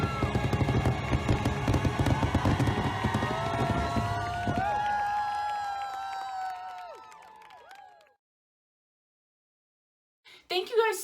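A Disneyland fireworks show crackles and booms in a dense, loud barrage that fades into trailing whistles and sputters, then falls silent before a brief burst of crowd noise returns at the end.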